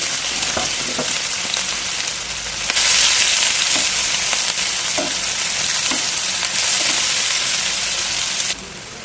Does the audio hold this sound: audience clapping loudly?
no